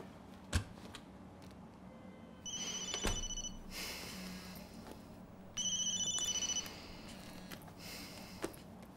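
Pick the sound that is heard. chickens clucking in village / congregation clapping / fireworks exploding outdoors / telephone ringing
telephone ringing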